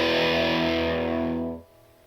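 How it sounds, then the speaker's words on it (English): Fuzzy distorted electric guitar strummed loud and alone in a punk-style song lesson, a sustained chord ringing for about a second and a half before cutting off sharply. "Super fun, nice fuzzy like distortion"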